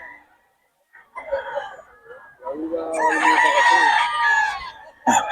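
A rooster crows loudly nearby with a long strained call, after shorter clucks and calls from other chickens, in a busy gathering of poultry sellers and buyers in Bocaue.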